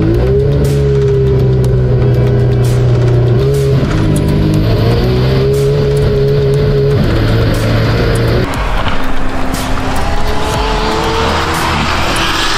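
1000 hp VW Golf accelerating hard at full throttle, a loud interior engine roar climbing in pitch through the gears with brief drops at each shift and wind noise building toward the end.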